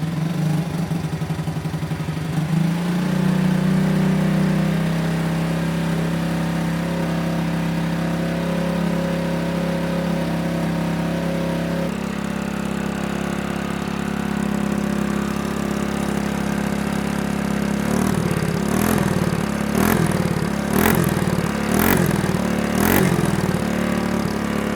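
Pocket bike powered by a chainsaw engine, restarted after long storage with starting fluid, catches and runs with a steady buzzing idle close by, then blips through several sharp revs near the end.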